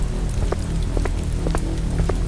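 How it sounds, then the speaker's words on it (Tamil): Light rain falling steadily as a horror-story effect, a dense close patter with scattered sharper drops tapping a surface, alone with no voices. "லேசான மழை தூறிக்கிட்டு இருந்தது."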